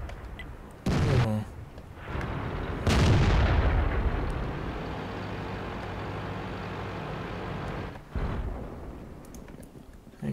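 An artillery shell fires in World of Tanks, a sharp heavy boom followed by a long rumbling roar that trails off. A second, smaller thump comes near the end, and no one speaks.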